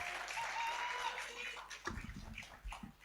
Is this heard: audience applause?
yes